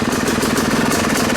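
A Yamaha YZ250 dirt bike fitted with a Rekluse auto clutch idles close by, a loud steady two-stroke burble with rapid uneven pulsing and no talking.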